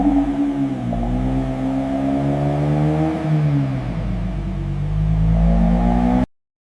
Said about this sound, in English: Let's take it out. Shifting into gear now.